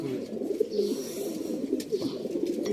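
Pigeons coo softly and steadily nearby, low murmuring calls overlapping in a continuous gentle burble with faint chirps.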